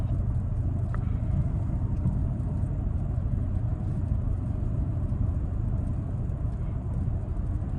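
2024 Toyota Tacoma TRD Sport Hybrid accelerating smoothly, heard from inside as a steady, muted low rumble of engine and road noise with no voices.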